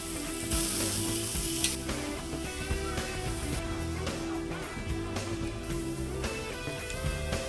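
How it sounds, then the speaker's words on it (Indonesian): Spices and chunks of pekasam jelawat fermented fish sautéing in plenty of oil, a steady close sizzle and crackle with occasional stirring clatter throughout. "Bumbu harus ditumis dahulu dengan minyak yang cukup banyak"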